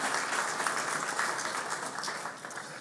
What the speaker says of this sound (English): join me in a round of applause for Tom's work on the MOURC